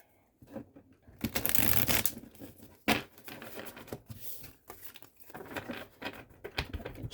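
Tarot cards being shuffled in several quick riffling bursts, close by, with short pauses between them and no talking.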